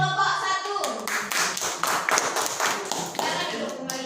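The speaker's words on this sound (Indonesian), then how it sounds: "tepuk tangan untuk kelompok 1" Group applause for a presenting team in a classroom session, dense clapping from many hands held steady for about four seconds, with voices mixed in beneath.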